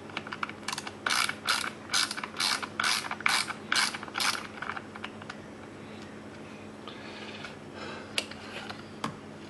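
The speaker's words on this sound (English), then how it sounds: "this is a 5/16 socket I'm using. Little 1/4 inch drive socket" A ratchet spins a 5/16 socket on a 1/4-inch drive while removing a lawnmower starter, giving bursts of rapid, crisp clicking close by that fade into quieter scattered ticks.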